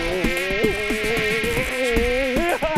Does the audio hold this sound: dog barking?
no